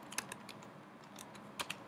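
Short bursts of key clicks from a Mac keyboard as a Terminal command is typed, close and soft, with a few scattered strokes and a brief double tap near the end.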